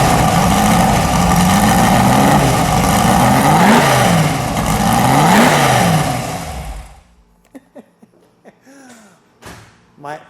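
A real 1966 Ford GT40 Mark V in yellow revs hard and loud up close, its engine note rising and falling in repeated swells before cutting off abruptly, leaving scattered faint knocks and brief voices.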